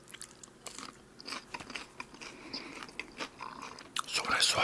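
Fries from Joe Burger are bitten and chewed up close, with a run of soft crunches and wet mouth sounds in uneven bursts, growing louder and denser toward the end.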